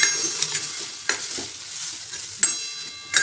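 Ground coconut and chili paste stirred and sizzling in a hot pan, a soft steady fry with several sharper scraping strokes of a spoon at intervals, close and alone.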